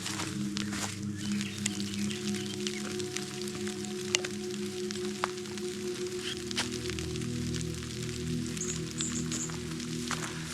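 Soft, steady rain falling outdoors in the Victorian Alps near Mount Bogong during a line of thunderstorms, with occasional drips and faint nature sounds in the background; no talking.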